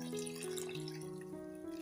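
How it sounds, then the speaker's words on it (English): Water runs into a cooking pot of beans, a faint, steady pour whose ringing tone climbs in small steps as the pot fills. "Let's go ahead and fill the pot of the beans with some water."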